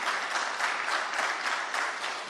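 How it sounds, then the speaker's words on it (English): Dense applause fills an exam hall, a steady wash of many hands clapping together at close range, loud and continuous from start to finish with no speech over it. "we made this very clear that there should be no applause"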